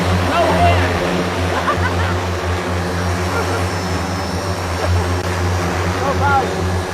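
A Hexa private drone lifts off nearby, its rotors giving a steady droning whir that stays loud and even throughout, with no wind noise.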